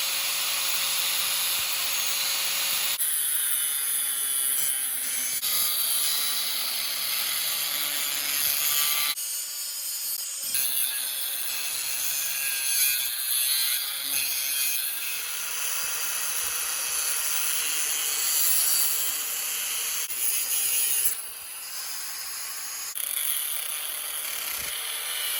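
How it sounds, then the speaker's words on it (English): Angle grinder cutting an octopus shape out of 1/8 to 3/16 inch steel plate, a harsh high whine and gritty hiss in several long passes with brief pauses between cuts. "I'm gonna cut it out with my angle grinder for the cut."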